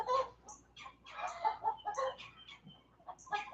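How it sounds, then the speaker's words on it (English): Chickens and other birds make a busy outdoor cacophony: repeated clucks and chirps layered over one another, fairly close and continuous, with no talking. "listen to this cacophony of birds over here"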